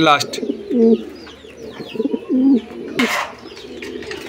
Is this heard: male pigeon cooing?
yes